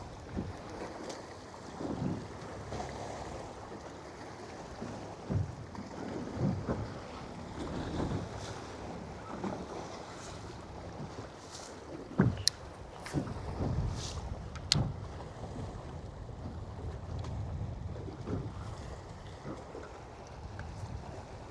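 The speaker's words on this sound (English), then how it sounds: "It is getting windier, folks." Steady wind blows across a lake around a bass-fishing boat, a continuous low rush with buffeting gusts on the microphone, while water laps and occasional sharp knocks come from the boat.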